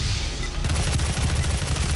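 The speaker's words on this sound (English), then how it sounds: "we're going to go ahead and use our micro missiles to weaken him" Rapid burst of micro missile fire in Doom 2016, a dense, loud stream of close explosive pops and booms.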